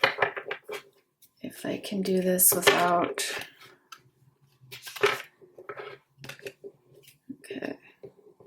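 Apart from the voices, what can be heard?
shuffling tarot cards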